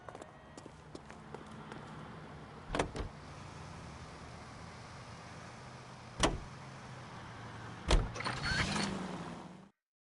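Car driving in LA Noire: a steady low engine drone and road rumble runs throughout, broken by a few sharp knocks and clatters, and ends abruptly.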